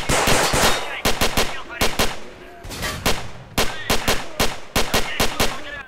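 Loud bursts of automatic gunfire from a first-person shooter, STALKER Народная солянка, crackle in rapid rhythmic volleys separated by brief pauses, close and dominant throughout.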